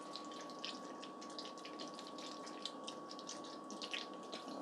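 Milk poured from a container into a pot of boxed Kraft mac and cheese, a steady soft trickle running close by without pause.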